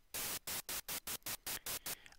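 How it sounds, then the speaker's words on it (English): White noise from a synthesizer in Cubase, played as eight evenly spaced loud hissing bursts with short silent gaps between them, steady and full-bodied. "So we're going to add some white noise to begin with."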